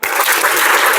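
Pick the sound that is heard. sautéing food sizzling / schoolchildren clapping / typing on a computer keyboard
schoolchildren clapping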